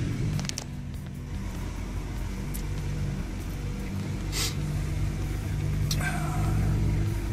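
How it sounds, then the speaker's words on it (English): A BMW car engine cranks over and settles into a steady, loud idle close by, with a couple of brief revs rising above the low rumble; no voices. "crank up the car"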